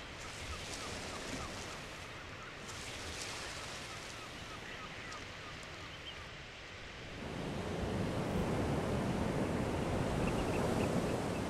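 Ocean waves wash in on a muddy shore amid wind noise, a soft distant rush that swells louder and nearer in the second half, with no voices.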